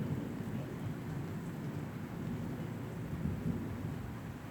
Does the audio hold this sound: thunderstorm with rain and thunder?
yes